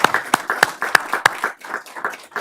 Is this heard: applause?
yes